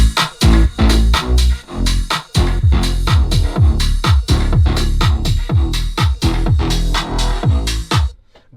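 A dance track plays loud and close: deep synthesizer sub bass pulses together with punchy electronic drums in a driving beat before stopping abruptly.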